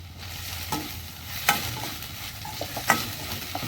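Prawn masala ingredients with tomato, ginger, garlic and curry leaves sauté in oil in a pan, a low steady sizzle with a few sharp spatula scrapes, nearby and alone.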